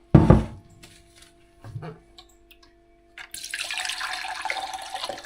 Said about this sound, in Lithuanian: Ir pat užpilu, reikia pilti tiek, kad apsemtų.